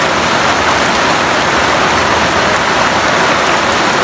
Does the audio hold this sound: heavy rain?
yes